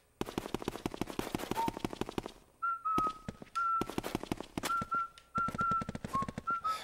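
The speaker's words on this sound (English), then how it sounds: "because he's whistling." Luigi whistles a short wavering tune in Luigi's Mansion, thin and faint beneath dense crackling, popping bursts of game sound effects.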